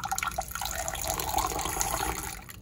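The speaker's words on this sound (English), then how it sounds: "I'm just gonna add a little bit of water to my eggs" Water runs from a kitchen sink tap into a bowl of eggs, a steady close splashing and gurgling stream lasting a few seconds with no talk over it.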